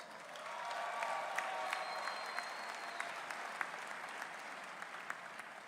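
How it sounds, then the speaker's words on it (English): Large crowd applauding at a West Virginia University event introducing coach Rich Rodriguez, a broad, steady wash of clapping from a big audience heard at some distance, with faint cheers mixed in. "Give yourselves a round of applause."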